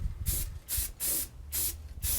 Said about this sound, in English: Now we're just spraying it.